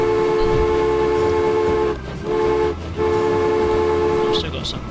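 Train running in the Transport Fever game, a steady loud mechanical drone with sustained tonal layers, briefly dipping twice before resuming, with a short bright burst near the end.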